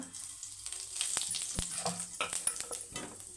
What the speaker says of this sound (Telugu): ఆయిల్ కూడా హీట్ అవ్వాలి చూడండి ఒక పావు స్పూన్ జీలకర్ర